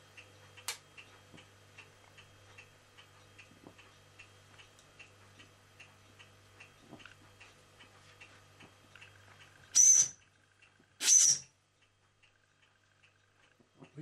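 A steam whistle on a small boiler at about half a bar of pressure gives two short, sharp, sputtering bursts, somewhat wet, over a quiet background of steady ticking.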